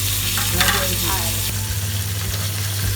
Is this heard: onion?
yes